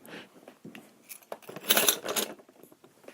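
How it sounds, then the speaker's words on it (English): A set of keys jangles and clinks as it is put down on a surface, a few scattered metallic rattles followed by a louder cluster of jingling in the middle, close to the microphone with no talking. "as I set my keys down here"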